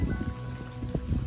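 Heavy monsoon rain in coastal Konkan near a creek, a dense, close hiss of drops striking surfaces with scattered louder splats and drips, no speech.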